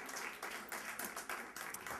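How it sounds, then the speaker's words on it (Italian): Studio audience applause for Domenico on an Italian music TV show, a steady patter of clapping with a few louder surges, moderately near and heard alone for about two seconds. "Facciamo un applauso a Domenico."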